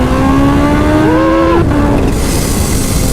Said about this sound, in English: See how it pushes on when you give it the tiniest amount of throttle.